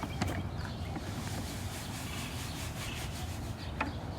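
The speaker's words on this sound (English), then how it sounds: "I'm just gonna put this sand in there" Sand is poured into a screen and sifted for sandblasting, giving a steady close gritty rubbing and rasping with a few sharper scrapes, fairly constant and with no talking.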